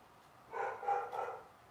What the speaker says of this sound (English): So sorry, now the dog's barking.